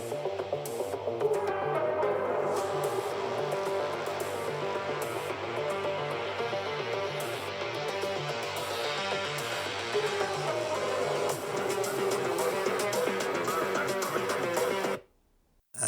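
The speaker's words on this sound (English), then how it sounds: "Dell have included a 10-watt 4-speaker system, and they sound like this." Music plays through the built-in 10-watt four-speaker system of a 2024 Dell XPS 16 laptop at half volume, a steady, full-band playback recorded close for about fifteen seconds before cutting off abruptly near the end.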